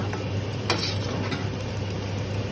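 Cuttlefish frying in added oil for a paella, a steady sizzle with a faint clink of a utensil near the start, no talk.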